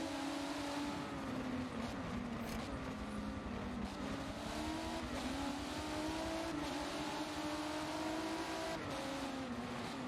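Race cars in an esports race at Brands Hatch roar continuously at high revs, engine pitch rising and falling as they pass close by, loud and unbroken throughout.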